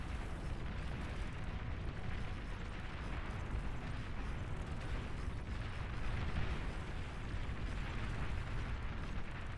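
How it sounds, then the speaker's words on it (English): Mobile mortar bots firing in the strategy game Beyond All Reason, heard as a continuous dense rumble of overlapping booms and bursts that swells slightly midway, with no clear separate shots and no talk. "These mortar bots are going to start tearing everything up."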